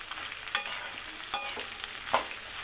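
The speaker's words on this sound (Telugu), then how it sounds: "సన్నగా తరిగిన క్యాబేజ్, ఇది క్యాబేజ్ ఫ్రై అండి" Finely chopped cabbage frying in a pan for a Telugu-style cabbage fry, with soft steady sizzle and three brief stirring scrapes of a spatula spaced evenly, close and moderately quiet, no voices.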